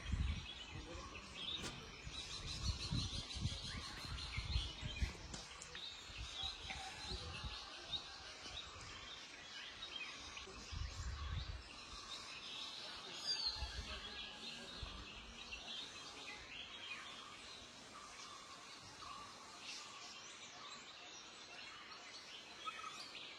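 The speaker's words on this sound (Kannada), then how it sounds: "ನ್ಯಾಚುರಲ್ ಬರ್ಡ್ಸ್ ಸೌಂಡ್ಸ್ ನೋಡಿ, ನ್ಯಾಚುರಲ್ ಆಗಿದೆ." Natural bird songs fill a forest resort in Coorg, a layered chorus of chirps and calls from several birds at moderate distance, continuous for over twenty seconds with some low rustling and a faint murmur of activity beneath.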